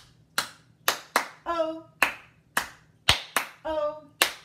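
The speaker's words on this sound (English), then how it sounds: "Four claps." Four sharp hand claps spaced through a children's "Bingo" farmer-and-dog song sung in a class meeting, alternating with short sung vowels, each clap a crisp close slap standing out clearly.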